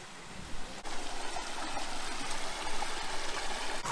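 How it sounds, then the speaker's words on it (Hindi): Small waterfall stream running across a mountain road in Uttarakhand, a steady close rushing and splashing of water with a few sharp knocks, heard alone without talk. "ये तो वाटरफॉल है, बीस रास्ते के बीच से पानी जा रहा है"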